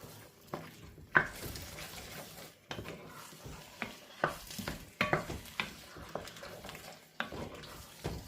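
Drained, rinsed butter beans tipped into a pan, followed by a series of soft scrapes and clatters of stirring with faint sizzling, close and quiet.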